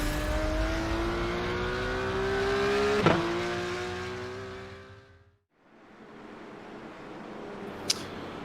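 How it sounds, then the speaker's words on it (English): A Porsche TAG Heuer Esports Supercar screams past in a racing video game, its engine rising in pitch, then cutting out briefly before a steady roar resumes alone. "This is the Porsche Tag Heuer Esports Supercar."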